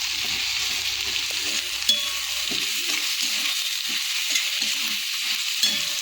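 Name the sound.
potatoes and spinach frying with turmeric and spices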